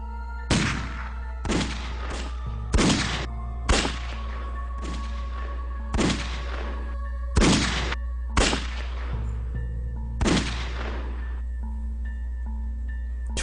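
Rifle gunfire at a military shooting range: about ten sharp, loud cracks fire at irregular intervals, each with a short ringing tail, over a low steady hum.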